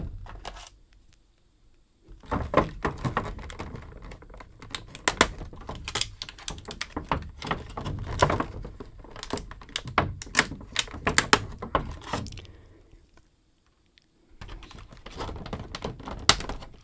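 Plastic twist ties being snipped and pulled off a McFarlane DC Multiverse Batman Rookie action figure's packaging: a dense run of close, sharp clicks, snips and rustles across most of the stretch, with brief quiet pauses and no talk.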